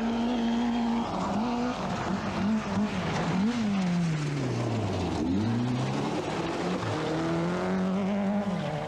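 Rally cars, including a Vauxhall Astra GTE, race flat out along a dusty 1988 British Open Rally Championship stage, engines loud and close with rising and falling revs, a passing swell around the middle and brief tyre scrabble.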